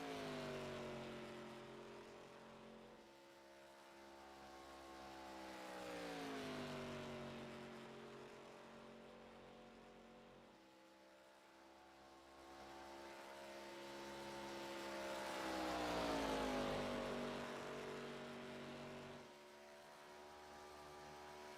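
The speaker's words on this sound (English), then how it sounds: "Let me know if the car volume is a little too quiet for you guys." Race car engines in a video game race at Talladega, a low, faint, continuous drone that swells and fades as pitch sweeps up and down, with no voices.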